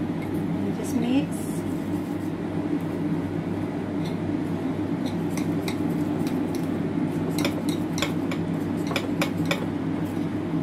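Banana walnut cake batter is stirred in a bowl, with soft scraping and light clinks of a utensil against the bowl over a steady background hum. The clinks grow more frequent toward the end.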